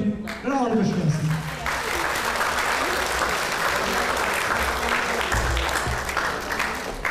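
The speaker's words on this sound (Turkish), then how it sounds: "Onlara bir rahat alkış gelsin." Audience applause at a children's music school final concert fills the hall, loud and sustained, with a voice speaking briefly at the start over the clapping.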